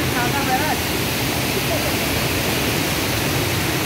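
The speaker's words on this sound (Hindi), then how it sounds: "काफी तेजी से पानी निकल रहा है, नदी का नज़ारा है" River water roars fast through an open gate, a loud, steady rushing wash with no breaks, like a waterfall close by.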